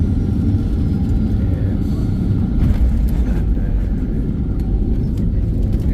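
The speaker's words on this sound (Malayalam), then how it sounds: "നെടുമ്പാശ്ശേരി അന്താരാഷ്ട്ര എയർപോർട്ടിലേക്ക് നമ്മുടെ ഫ്ലൈറ്റ് അങ്ങനെ താഴെ ഇറങ്ങാണ്" A loud, steady low rumble of an airplane's engines and airflow as it lands at Nedumbassery (Kochi) International Airport, droning continuously without breaks, as heard from inside the cabin.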